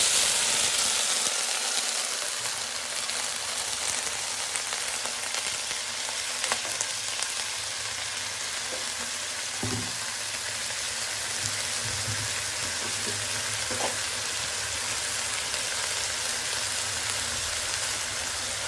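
Potatoes and vegetable stalks fry with cumin in a hot pan, giving a steady loud rain-like sizzle with scattered crackles and a few faint clinks, close and continuous without speech.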